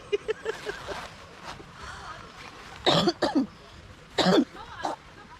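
Several harsh, close coughs in two clusters, a pair of bursts followed by another after a pause, with light talking and background noise between them.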